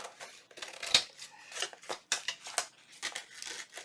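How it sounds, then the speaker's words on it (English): Scissors trim the edges of coffee-dyed paper for a junk journal book-page envelope, giving a run of crisp, close snips and papery rustles at an uneven rhythm, with no talking. "Now I'm just going to trim my coffee dyed paper off."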